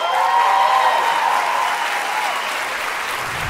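An audience applauding a speech, a dense, sustained wash of clapping from a large crowd that holds steady and fades slightly toward the end.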